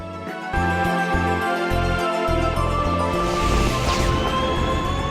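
A Rheaird flying machine from Tales of Symphonia lifts off: a steady, loud mechanical roar with pulsing low tones and a rising whine sweeping up near the end, continuous throughout with no voices.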